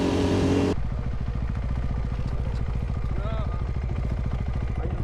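An off-road motorcycle on a forest trail in Bulgaria: the rider's own engine chugs in a steady, rapid pulse close by, and a brief rising whine comes from another bike passing alongside.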